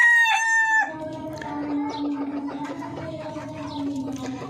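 A Chocolate Orpington breeder rooster gives a short crow at the start, followed by steady clucking from nearby chickens.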